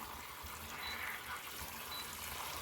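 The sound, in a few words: rinsing bok choy clean under water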